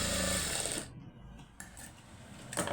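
A sewing machine runs steadily while stitching blouse fabric without lining, then drops to a quieter, uneven mechanical whir before picking up again near the end. It is close and loud, with no talk.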